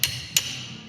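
Two sharp, ringing hammer strikes about a third of a second apart, close and loud, while a 2003 Harley-Davidson Dyna Super Glide is being worked on.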